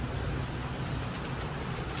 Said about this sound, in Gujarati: જો ફરી પાછો વરસાદ ચાલુ ગયો છે.